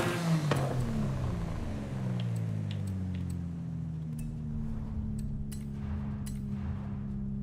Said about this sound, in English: The race exhaust sounds closer to the stock exhaust for some reason, but just louder.